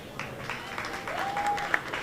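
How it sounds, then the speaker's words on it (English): A room at a New York media launch event breaks into moderately faint applause, scattered clapping with a few sharper individual claps near the end and a brief whistle-like tone midway. "Please give them a big round of applause for being here."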